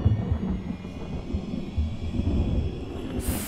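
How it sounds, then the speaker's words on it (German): Low, rolling thunder rumbles through a stormy night in the horror game PineView Drive, a steady deep roar that swells and fades without any talk over it. "Und es gewittert schon wieder."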